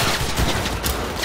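A quick, dense burst of weapon fire in Cyberpunk 2077, rapid gritty shots crowding together for just over a second, loud and close.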